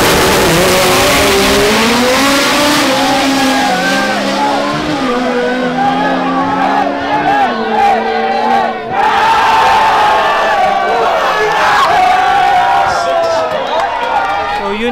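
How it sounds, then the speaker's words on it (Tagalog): B-series turbo Honda EK hatchback races in a drag finals event, engine revving loud and rising through gears with tire noise, while a crowd cheers and shouts throughout. "So this is the finals. B-Series Turbo EK hatch."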